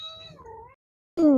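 A domestic cat meows twice, close and fairly loud: a drawn-out tonal call that bends downward, a short silence, then a second brighter, louder meow.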